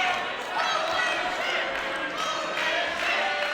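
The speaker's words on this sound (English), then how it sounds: "Listen to this crowd, gentlemen. The crowd starting to come alive for Mitch Waterman." A wrestling match crowd roars and cheers steadily for Mitch Waterman in a dense, continuous wash of noise, with commentators talking over it.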